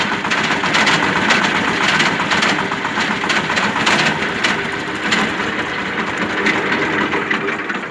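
Knocking from a tractor gearbox with the PTO engaged, heard as a steady loud engine drone with repeated rough rattling knocks running through it, close up and with no talk.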